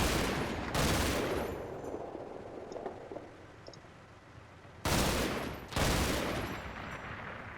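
Gunfire in the World War II strategy game Combat Mission Red Thunder, with sharp distant volleys at the start, sparse faint shots in the middle, then two more loud bursts near the end.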